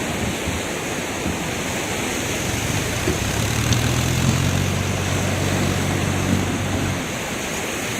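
A tractor on Marina Beach hauls a fishing boat ashore by rope, its low engine drone rising midway under steady wash of surf and wind.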